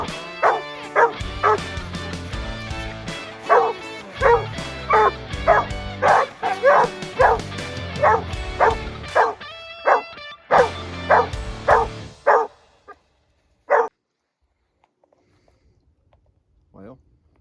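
A young hunting dog pup barks at a raccoon during a coon hunt, giving a steady run of loud, close, high yips and bow-wows that break into a few scattered barks and then fall quiet.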